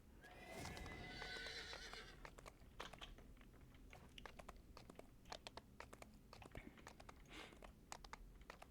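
A horse in the online game DDO gives a loud whinny at the start, followed by clip-clop hooves and scattered keyboard clicks, with no talking.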